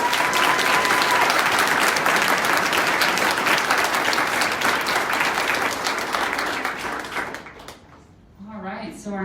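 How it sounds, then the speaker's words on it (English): An audience applauding at a talk, with loud, dense clapping for about seven seconds that then fades out, followed by a voice speaking. "Can we just give them another round of applause?"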